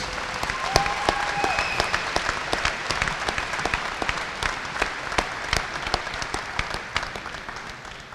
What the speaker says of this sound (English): I ask you to join us in a round of applause for our fine musicians and their fine directors